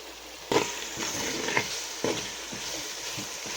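Fresh mint and coriander leaves fry in a pan for Guntur Muslim-style chicken biryani, giving a steady close sizzle broken by a few louder stirring scrapes.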